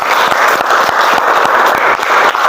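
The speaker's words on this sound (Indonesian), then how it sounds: "kita berikan aplaus kepada kelompok" A classroom group claps for a presenting team, steady dense applause filling the room, close and loud throughout with no break.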